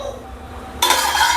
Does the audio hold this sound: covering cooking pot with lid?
yes